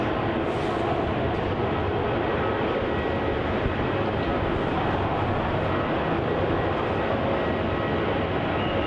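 Jet airliner landing on runway 34 at Melbourne Airport in gusty wind, a constant broad engine roar heard from a distance that holds evenly throughout.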